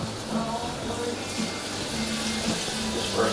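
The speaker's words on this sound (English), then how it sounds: "rinse with the hot water" Steady hot water pours from a kitchen tap, a continuous hissing splash with faint low hum beneath it.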